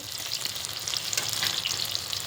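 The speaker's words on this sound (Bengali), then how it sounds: "তার জন্য দেখো বেগুনটা ভেজে নিচ্ছি" Eggplant pieces frying in oil give a constant crisp, crackling sizzle, close and steady for a couple of seconds with no talking.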